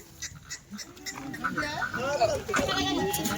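Kathiawari pregnant goats bleat near a farm, with wavering calls rising in the second half under steady talk from people nearby.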